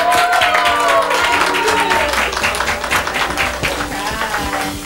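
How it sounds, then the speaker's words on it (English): A crowd applauds a competition winner, dense rapid clapping that starts strong and eases slightly, with a few voices and a faint musical tone underneath. "Let's hear a round of applause for Wedaga."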